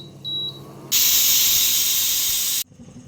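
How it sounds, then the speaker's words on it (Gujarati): A pressure cooker boiling fenugreek leaves lets out one loud, steady hiss of steam lasting under two seconds, starting abruptly and cutting off sharply, with quiet kitchen background before and after. "આપણે એને હવે બાફવા માટે મૂકી દીધું છે અને 2 વિસલ થાય ત્યાં સુધી આપણે એને બાફી લેવાની છે"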